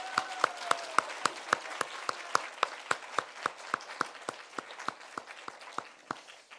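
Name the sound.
applause welcoming a new minister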